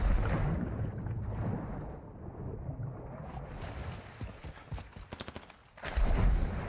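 Gunfire rings out in a Call of Duty DMZ match: a dense burst of shots up close, then a quicker run of sharp cracks and a final loud blast, with no talk over it.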